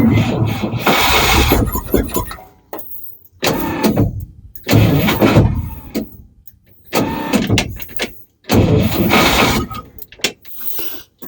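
A 1962 Chevrolet C20 service-bed truck with a struggling starter, cranked in five or six long bursts with short pauses between, loud and close, the engine never catching.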